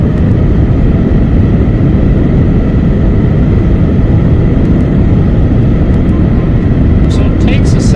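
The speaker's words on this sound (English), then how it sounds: "Rolls Royce going down the runway" A video game aircraft with Rolls Royce engines accelerates down a runway, giving a loud, steady engine roar that holds for the whole stretch, with a few faint clicks near the end.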